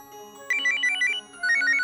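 A phone ringtone plays a quick warbling electronic trill in two bursts, clear and moderately loud.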